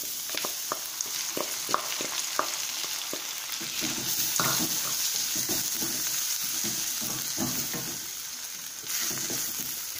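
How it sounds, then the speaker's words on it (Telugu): Onions and moong dal fry in a pan for cluster beans moong dal fry, with a steady sizzle and repeated sharp scrapes of stirring throughout, close and fairly loud, no talking. "ఇప్పుడు ఉల్లిపాయలు వేగిపోయినాయి కదా, ఇందులో పెసరపప్పు వేసుకుందాం."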